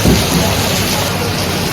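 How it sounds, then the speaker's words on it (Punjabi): Steady, dense rain pours down loudly and close by in a village, a constant rushing hiss with a low rumble at the very start. "ਲਓ ਜੀ ਮੀਂਹ ਪਈ ਪਿਆ"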